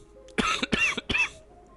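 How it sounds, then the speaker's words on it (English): Three harsh coughs in quick succession, close and fairly loud, with a faint background hum between them. "Kind of like this coughing, admittedly."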